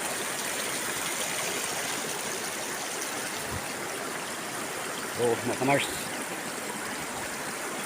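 River water flows steadily, a continuous close rushing stream with brief talk over it near the end.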